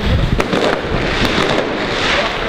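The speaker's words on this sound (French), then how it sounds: "Ah non, mais c'est où ce feu d'artifice?" Fireworks crackle and pop in a dense, continuous barrage outdoors at a street protest in Nantes. Sharp bangs cut through a constant roar of crowd and wind noise.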